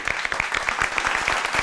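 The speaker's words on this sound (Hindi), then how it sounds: "शैबी और शबो के लिए तालियां" A studio audience at a comedy game show claps in quick, distinct rhythmic beats, a lively burst of applause heard up close with no talk over it.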